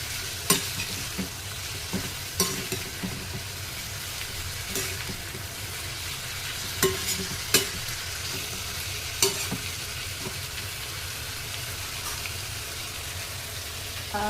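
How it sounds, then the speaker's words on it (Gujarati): Food sizzles in a pan while being stirred, a constant frying hiss punctuated by sharp scraping clicks of the utensil against the pan at irregular intervals, close by with no talking. "બસ તમે સારી રીતે એને હલાવી લો બરાબર."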